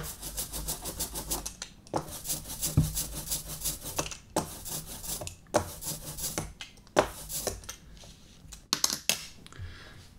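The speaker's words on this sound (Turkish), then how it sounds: "Merdanemiz boyayı bu şekilde alıyoruz." A rubber roller rolled back and forth through ink for kitchen lithography, giving repeated sticky rasping strokes in rhythmic bursts, close and fairly quiet, with no voices.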